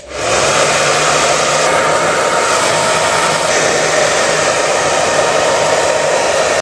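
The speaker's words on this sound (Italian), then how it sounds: "vado a scaldare un po' con il phon in modo da ammorbidire il collante" A hair dryer blows steadily at close range, heating the glue on an iPhone 12 Pro Max camera lens, a loud continuous whooshing hum with a high whine, running unbroken throughout.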